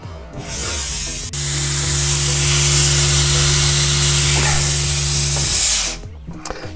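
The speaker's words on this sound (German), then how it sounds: "Und jetzt schalte ich mal die Pumpe an und dann kann man es auch gleich sehen," A vacuum pump for a CNC router's vacuum table switches on with a sudden jump into a loud, steady hiss and hum, running for about five seconds before cutting off.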